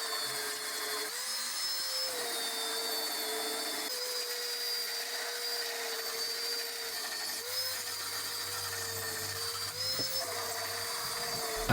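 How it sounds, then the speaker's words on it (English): An electric file drones steadily sanding the entrance hole in pallet wood, a high whine with a humming motor tone that dips and recovers as pressure changes. "I also used my electric file to sand the entrance hole."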